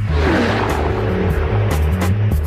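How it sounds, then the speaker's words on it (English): A sports car drives past, its engine a loud, close, steady rumble with shifting pitch over a couple of seconds. "There are cars, and then there are sports cars."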